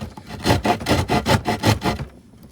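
Hand saw cutting a half-inch-deep lock notch into a wooden crossbow stock, about seven steady back-and-forth rasping strokes close up, then stopping into quiet.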